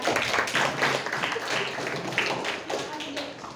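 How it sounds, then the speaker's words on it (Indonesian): A school classroom group claps hands for a presenting team, a burst of scattered, uneven claps from a modest number of students, close by, with some chatter mixed in. "Oke, tepuk tangan buat nomor 3."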